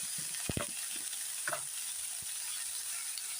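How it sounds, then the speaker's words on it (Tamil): Onions sautéing for an idli-dosa chutney give a faint, steady sizzle with a few soft scrapes and clinks of a spatula stirring through the pan. "வெங்காயம் வதங்கட்டும்."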